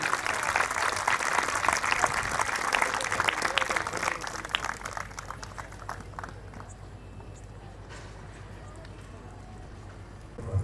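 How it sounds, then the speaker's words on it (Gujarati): Audience applause at a Kshatriya Rajput community yajna event honouring a family called to the stage: a dense, loud clatter of clapping that thins out midway into a lower murmur, with a voice heard over it. "તો તાળીઓના નાદ સાથે તેમનું સન્માન થવું જોઈએ."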